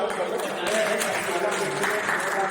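Audience applause at a monthly Hindi poetry gathering and felicitation ceremony, a steady mid-level wash of clapping sustained for the whole stretch, with voices mixed in.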